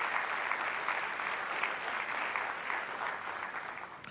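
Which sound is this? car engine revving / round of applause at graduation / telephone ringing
round of applause at graduation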